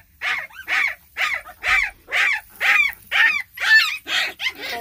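A newborn brindle puppy squeals in about ten shrill, insistent cries at a steady rhythm, loud and close, with brief quiet gaps between them.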